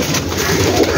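Pigeons on a large rooftop loft give a soft, low cooing, a brief burst of throaty bird sound close by.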